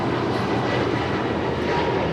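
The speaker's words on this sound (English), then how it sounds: "This is American Airlines 481 taking off to Philadelphia on an A321neo." An American Airlines Airbus A321neo takes off bound for Philadelphia, giving a steady, loud broadband engine roar that holds evenly throughout with no voices.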